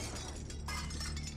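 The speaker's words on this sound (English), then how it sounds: "which she then took out and smashed with a hammer" A small tape recorder is smashed with a hammer, giving a brief crunching, shattering break under a steady low hum, with no voices.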